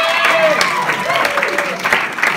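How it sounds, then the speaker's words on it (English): A short burst of audience clapping at a comedy show, mixed with cheering voices and a prominent voice calling out over it. "Round of applause for him."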